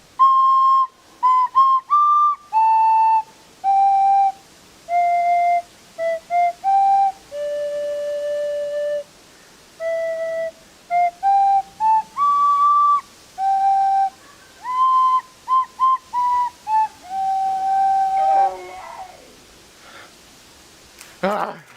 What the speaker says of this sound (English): He plays it, and in the distance, we can hear the iconic cry of Salamander Man